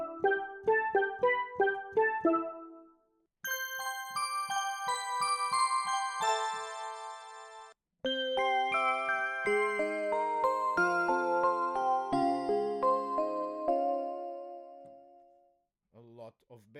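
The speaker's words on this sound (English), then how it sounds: "Bell mallet." Bell mallet tones from an iOS rompler app: several short runs of struck, ringing mallet notes played as phrases and chords, bright and clear, with pauses between passages and no voices.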